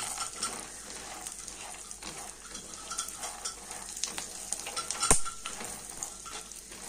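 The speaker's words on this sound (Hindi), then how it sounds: "ये सारे ड्राई फ्रूट्स हैं जो बहुत ही बेनिफिट वाले हैं, उनको बस अच्छे से मैंने उलट पुलट कर लेना है" Dry fruits and walnuts turned over in a pan on the stove, giving a soft, continuous sizzle with scattered scrapes and clicks of stirring and one sharp knock near the end, fairly quiet.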